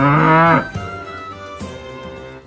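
A cow lowing beside a calf gives one loud, drawn-out moo up front, then quieter tonal calls over a busy music-like backdrop; a brief spoken syllable slips in.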